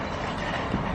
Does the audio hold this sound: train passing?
yes